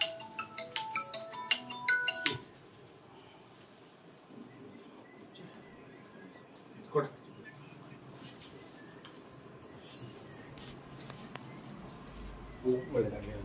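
A mobile phone ringtone plays a short, bright, rhythmic melody for a couple of seconds indoors, then stops, leaving a quiet room with faint background noise and a few soft knocks.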